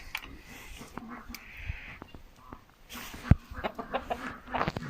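Chickens cluck and call nearby in short bursts, with scattered clicks and rustling in a quiet outdoor setting and no talking.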